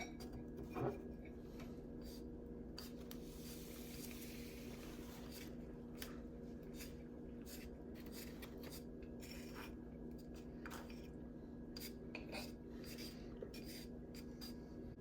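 Chopsticks or a spoon stirring sticky natto into rice with soy sauce make soft, steady clicking and tapping against the bowl, faint and close, over a constant low background hum.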